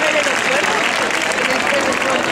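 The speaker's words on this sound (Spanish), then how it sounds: "Pido otro aplauso para esos niños cuyos padres lo están pasando mal" Sustained crowd applause for children at a royal herald procession in Seville, a dense, steady wash of clapping with voices mixed in throughout.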